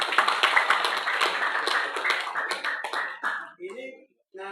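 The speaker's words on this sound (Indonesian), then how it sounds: "tepuk tangan dulu." An audience at a public lecture by the head of the Papua Ulema Council claps briskly for a few seconds, the applause thinning out and stopping as a voice begins speaking.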